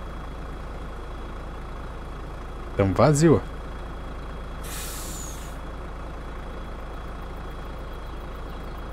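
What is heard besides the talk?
truck braking in a farming simulator video game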